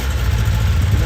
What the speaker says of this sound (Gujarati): બાઇક ચાલુ કરું